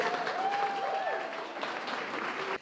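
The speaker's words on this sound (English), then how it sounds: "I think we should give him a big round of applause for his work." Applause for the officiant at a wedding ceremony, a steady broadband patter of clapping from the gathered guests lasting the whole moment, with faint voices and a brief tonal whistle-like sound mixed in.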